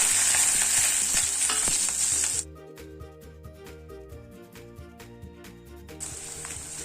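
Thinly sliced onions hit hot oil with mustard seeds and cumin for a ridge gourd masala curry, giving a loud, bright sizzle that drops to a quieter crackle with scattered pops, then flares up again near the end.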